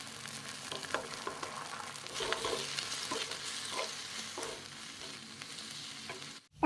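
Egg fries in a pan with onion, tomato, chili and pasta, a continuous soft sizzle broken by repeated scraping stirs, close and fairly quiet, with no talking.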